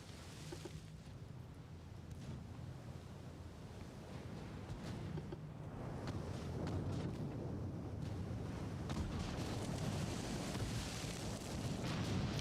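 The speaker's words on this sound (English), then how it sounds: "Open fire with the big guns, lads." Big naval guns firing in the warship game Ultimate Admiral: Dreadnoughts, heard as distant booming thuds over a constant rumble of sea and engine noise that gradually swells louder.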